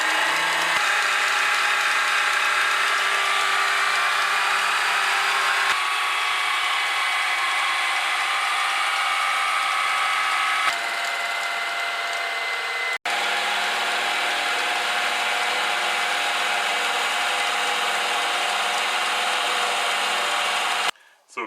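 A lathe faces a metal block flat while parts are made for a Porsche 944 radial sealing ring and pilot bearing job, giving a steady mechanical whir with ticking, rattling undertones and a few abrupt cut-outs and changes.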